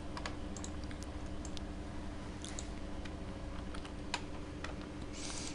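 Computer keyboard clatters with steady, fairly faint typing as code is entered, the keystrokes falling in quick irregular bursts over a constant background hum.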